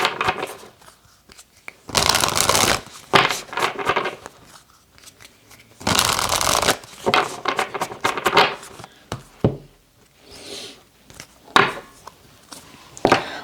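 Oracle cards being shuffled by hand, a run of loud rustling, riffling bursts separated by short pauses, close up with no talking.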